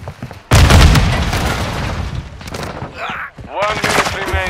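A loud grenade blast in Modern Warfare II hits suddenly with a deep boom and a long crackling decay, followed by scattered gunfire and brief shouted voices.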